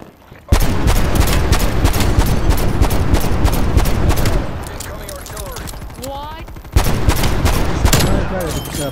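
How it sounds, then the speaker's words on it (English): Incoming artillery fire in the shooter game Dirty Bomb: sustained, loud rapid explosions and bursts rumble almost without a break, easing briefly before a fresh heavy barrage, while players talk over the din. "Incoming artillery."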